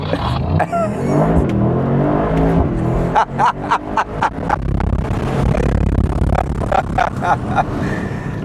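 A Mercedes-AMG sports car engine idles and then revs in short, repeated throttle blips, close and loud, with a steady rumble between bursts.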